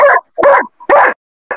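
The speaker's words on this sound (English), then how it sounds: "Why is the dog barking?" A dog gives four loud, close barks or yips in quick succession with short gaps between them, during a Minecraft session.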